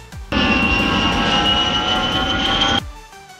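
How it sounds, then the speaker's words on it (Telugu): An airplane roars overhead, a loud steady engine drone that starts abruptly, holds for about two and a half seconds, then cuts off, in a Telugu horror comedy scene. "చూడరా విమానం."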